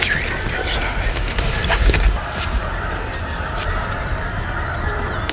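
Geese on a farm honk intermittently at a distance over steady wind and outdoor rumble, with a few sharper calls standing out.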